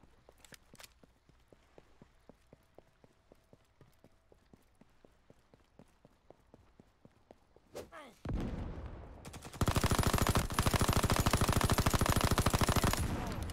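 Rapid automatic gunfire in the video game Veiled Experts, first a sparse run of single shots and footstep-like taps, then a sudden loud sustained burst of rapid fire near the end.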